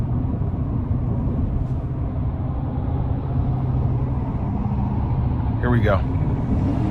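Engine of a 2025 Chevy Silverado 1500 LTZ pickup with the 5.3 V8 pulling hard under acceleration, a steady low drone and road rumble running throughout while someone speaks briefly over it.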